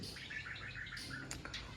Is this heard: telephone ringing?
no